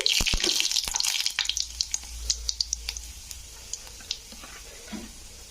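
Panch phoron spice mix, about a spoonful, sizzling in hot oil over a lowered flame for a fish-roe tok, with a steady crackling hiss and scattered sharp pops throughout.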